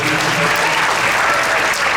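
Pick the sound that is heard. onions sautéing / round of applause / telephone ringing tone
round of applause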